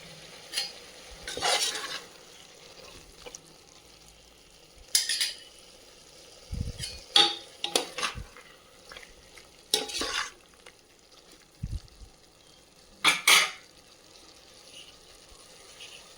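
Tomato with mint and coriander stirred and sautéed in a pan, with intermittent scraping and clinking of a utensil against the pan in short bursts over a faint sizzle, no talking.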